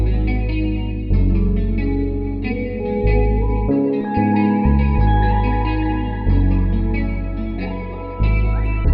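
Afrobeats beat run through Valhalla Supermassive and Vintage Verb reverb plugins, with sustained chords, deep bass hits and a repeating melodic pattern in loud bar-length sections, each note trailing into a lush, washy tail.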